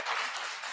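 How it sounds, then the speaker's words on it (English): Brief burst of audience applause at a community gathering, a dense, steady patter of many hands clapping for under a second, moderately distant and unaccompanied by speech. "I do believe she deserves a bigger clap than that."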